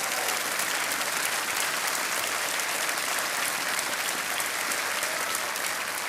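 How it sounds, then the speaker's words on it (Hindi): Studio audience applause on the KBC game show stage, a steady, dense roar of many hands clapping throughout, loud and sustained with no break. "ताली बजती रहनी चाहिए।"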